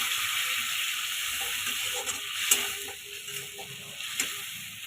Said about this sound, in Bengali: এবার দেখো জলটা ফুটে এসছে